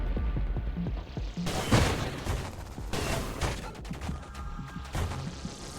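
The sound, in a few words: ship firing shots in video game Nova Drift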